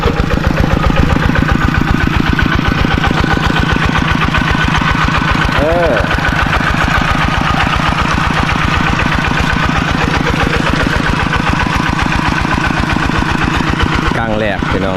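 A walking tractor engine chugs loud and close in a steady rapid rhythm throughout, with a voice briefly heard over it.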